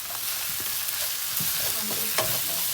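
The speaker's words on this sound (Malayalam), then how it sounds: "നന്നായിട്ട് ഇളക്കി കൊടുക്കുക. ആ ഒരു പച്ചമണം മാറുന്ന വരെ നമ്മൾ ഇളക്കി കൊടുക്കേണ്ടതാണ്." Chicken filling with garam masala and chicken masala is stirred in a hot pan, a steady bright sizzle broken by soft scraping strokes of the spoon, close and continuous with no talk.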